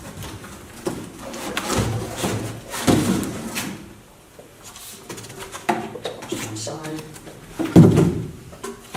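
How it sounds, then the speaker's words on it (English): Items for a motion control starter pack, including a servo motor and cables, are lifted out of boxes during an unboxing, giving intermittent cardboard rustles and soft knocks while a person talks throughout. "take each item out of the box, put the boxes to one side"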